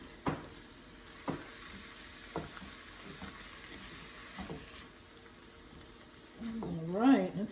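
Ham and pineapple fried rice cooks on low in a pan with a faint, quiet sizzle and periodic spatula taps, and a voice speaks briefly near the end.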